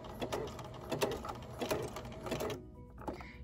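A sewing machine runs at speed, stitching seams around a body pillow, a fast steady rattle that stops abruptly near the end, leaving near silence.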